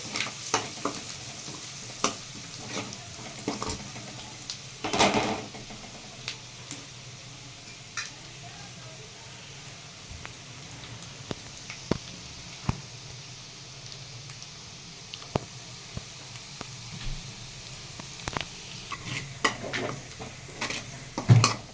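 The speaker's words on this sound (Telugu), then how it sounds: "సన్నగా తురుముకున్న వెల్లుల్లి, అలాగే పచ్చిమిరపకాయ, కొత్తిమీర అవి వేగనిద్దాం." Finely grated garlic, green chilli and coriander frying in a pan for chicken lollipops, a soft continuous sizzle broken by frequent clinks and scrapes of a spoon against the pan.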